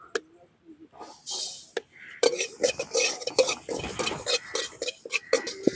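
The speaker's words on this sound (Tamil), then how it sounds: "எள்ளு ஒரு கூணு வறுத்து எடுத்துக்கலாம்" Sesame seeds dry-roasting in a pan for rice murukku, stirred with repeated scraping and scratching strokes that start sparse and turn busy and steady, close and moderately loud, with faint clinks of the utensil against the pan.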